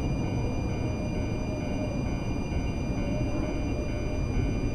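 Ginza Line subway train running in the BVE5 train simulator game, a steady continuous rumble of wheels and motors at even loudness throughout, with no talk.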